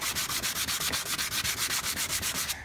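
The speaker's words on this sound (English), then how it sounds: "we're going to take some 100 grit or 150 grit to it and clean up this top surface" Sandpaper of 100 grit rubbing back and forth over a cured epoxy finish on a wooden top, a steady rhythmic rasping scuff of even strokes at close range, with no voices.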